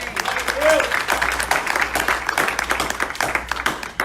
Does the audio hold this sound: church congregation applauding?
yes